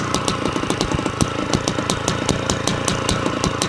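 A 1973 CZ 250 MX motorcycle's two-stroke engine running steadily nearby, loud and continuous with a rapid popping rhythm and no voices.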